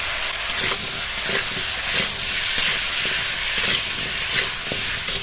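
Potatoes seasoned with salt and turmeric fry in a pan with a steady, loud sizzle, broken by regular stirring scrapes and small spattering pops, with no voice over it.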